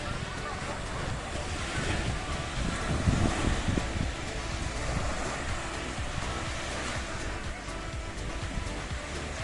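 Surf washes ashore at Baudry beach near L'Île-Rousse, Corsica, a steady rush of breaking waves with gusty wind buffeting the microphone throughout.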